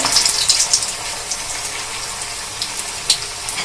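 Coriander leaf pakoras going into hot oil one at a time, giving a steady bubbling, hissing fry with faint crackles, close and moderately loud throughout.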